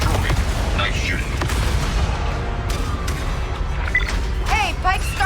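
Heavy blasts and shooting as a turret is destroyed in the Star Wars Outlaws video game, a dense, loud, continuous roar of booms and gunfire with faint voices briefly audible.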